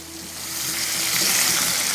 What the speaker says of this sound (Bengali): এবারে ভালো করে আমাদের আলুটাকে ভেজে নিতে হবে।